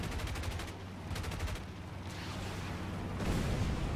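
Aircraft rockets and guns fire in the video game War Thunder as a dense, continuous stream of rapid bursts over a steady engine drone, with no talking.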